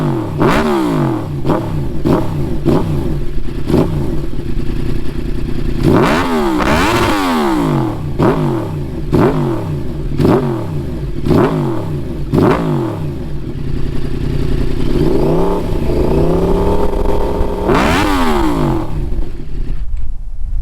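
A 2010 Yamaha R1 sport bike fitted with a Toce exhaust rides past, loud and close, with repeated sharp revving surges and rising gear pulls across the run, a long climbing wail near the end.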